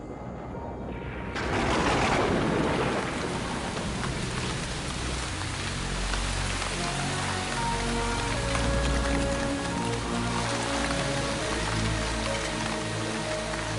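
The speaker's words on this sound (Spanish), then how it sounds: "Ha llegado el monzón." Heavy monsoon rain in Assam pouring down steadily after a brief quieter start, a dense continuous wash of drops with a low rumble and a tonal hum underneath.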